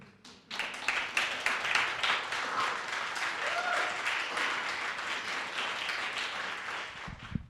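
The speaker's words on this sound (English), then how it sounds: "one more round of applause" An audience claps after a poetry reading, the applause swelling quickly into a steady, full round and then tapering off at the end.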